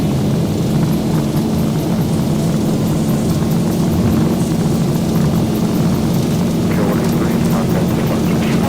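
Boeing 737 jet engines in the X-Plane 12 Zibo mod roar steadily at takeoff thrust on the runway, a continuous loud broadband rumble with a constant humming tone that holds unchanged throughout.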